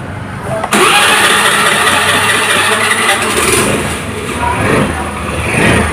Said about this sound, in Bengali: তো এখন গাড়িটির সাউন্ড শোনাবো আপনাদেরকে।